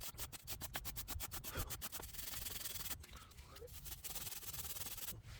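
Rear brake caliper bracket contact points on a 2019 Ford Transit Connect being scrubbed clean, a rapid rhythmic rasping that breaks into a rougher, continuous scraping, close and fairly loud with no talk.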